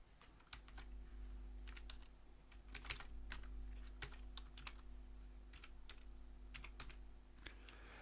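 Steady typing on a computer keyboard, with quick clusters of light key clicks and short pauses against a faint background hum, no voices.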